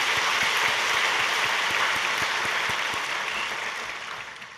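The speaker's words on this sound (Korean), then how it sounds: "이제 박수를 좀 쳐주십시오." A church congregation applauds during a sermon, a broad wash of many hands clapping that stays steady and then gradually tapers off, with no talk over it.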